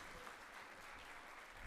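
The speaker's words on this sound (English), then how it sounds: "that's a round of applause" A crowd claps steadily, a faint, distant wash of applause with no talking, at a university convocation ceremony.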